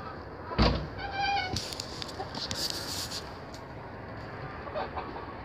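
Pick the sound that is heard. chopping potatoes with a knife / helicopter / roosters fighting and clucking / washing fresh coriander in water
roosters fighting and clucking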